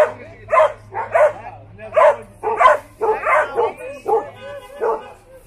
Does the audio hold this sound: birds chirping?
no